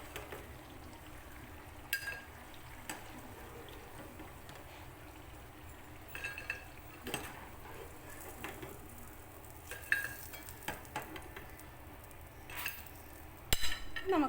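Fried kurkure snacks being scooped out of hot oil, with a steady low sizzle under scattered metal scrapes and clinks of a ladle against the pan.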